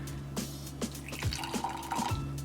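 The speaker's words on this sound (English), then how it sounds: "So I'm going to add some hot water to this" Hot water pours onto golden milk latte powder in a cup, a soft liquid trickle with small repeated drips and gurgles, faint and close with no talk.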